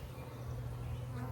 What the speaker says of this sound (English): These are Italian bees.